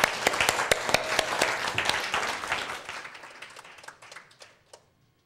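Applause from a lecture audience opening the second morning session, sharp scattered claps at first that thicken into a dense burst, then thin out and trail off into a few isolated claps.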